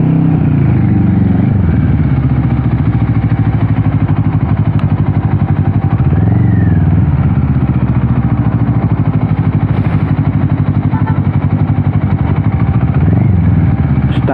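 Motorcycle riding on an expressway near Angeles and the NLEX in the Philippines, with a loud, steady engine drone and wind rumble close up, plus occasional faint rising engine swells.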